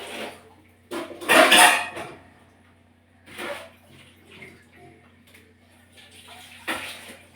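Chicken feet being tossed and turned by hand through masala in a bowl, with a few bursts of clinking and scraping against the bowl, the loudest early on, then softer rustling handling.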